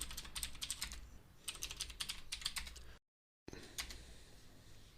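A command is typed on a computer keyboard in quick bursts of close, crisp key clicks, with a brief silent gap before a final short flurry.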